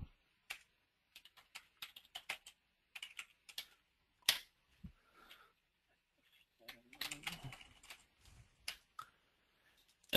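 Rapid bursts of typing on a computer keyboard, with clusters of sharp key clicks separated by short pauses, close and fairly quiet, with no talk.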